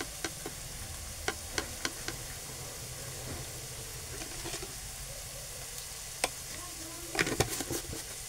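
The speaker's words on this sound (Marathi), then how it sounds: "लालसर असा कांदा आपण भाजून घेऊ" Red-tinged onion sizzles steadily in a hot pan while salt is stirred in for a red amaranth dish, with scattered sharp scrapes and clicks of the spoon over the constant frying hiss.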